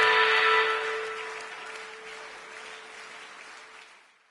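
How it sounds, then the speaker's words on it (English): Crowd applause in the Tour de France 2022 video game for Tadej Pogacar, a steady wash of clapping with a sustained tone that starts loud and gradually fades out. "Come on, let's applaud him once more."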